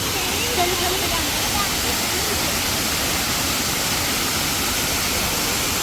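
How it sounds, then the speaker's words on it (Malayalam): A waterfall running with low water flow gives a steady, dense rushing hiss that stays constant and fairly loud throughout, with no pauses or distinct events. "വാട്ടർഫാൾസ് കാണിക്കുന്നത് കണ്ടോ വെള്ളമൊക്കെ കുറവാണ്"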